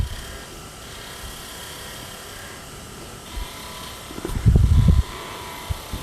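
A wood lathe spins with a steady mechanical whir and hum while a skew chisel cuts a barrel shape, with a louder burst of cutting near the end against the constant motor drone and no voices over it.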